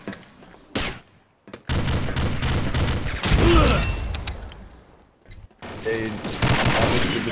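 Bursts of video game gunfire from power guns, loud and close, with a few short pauses between volleys, mixed with game effects and faint voices.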